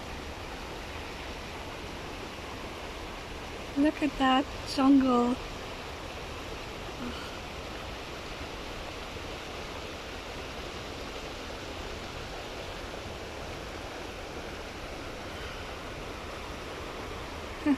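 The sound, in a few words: waterfall in a Kenyan forest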